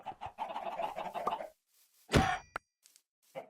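Minecraft chickens in the Sky Factory modpack cluck in quick bursts, with a louder squawk midway and a few short clucks after, crisp and close over silence.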